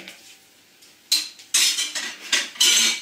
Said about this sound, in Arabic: كنخلط مزيان